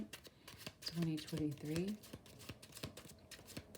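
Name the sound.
shuffling tarot cards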